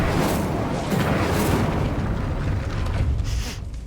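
Incendio fire spell cast in the Hogwarts Legacy video game, a loud booming whoosh of flame that swells at once and rolls on for several seconds before slowly fading, with no talk over it.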